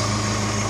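A 1988 Suzuki Samurai's engine idles steadily and close by, a constant low mechanical hum with a high-pitched whine over it and no talking.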